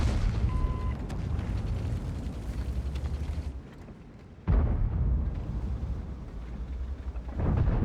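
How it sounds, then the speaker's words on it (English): A tank's ammo rack detonates in a tank video game: a loud, low rumbling blast with broadband roar that drops away, then a second sharp heavy burst and sustained rumble, with no talk. "God, the Type 4 got ammo racked."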